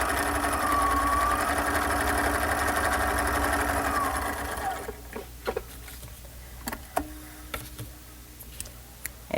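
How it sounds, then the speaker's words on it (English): Home sewing machine running a line of stitching on stretch fabric, a steady whirring motor for several seconds, then stopping and leaving scattered clicks and small handling taps. "then I'd make a second line of stitching right here"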